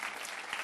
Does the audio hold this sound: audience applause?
yes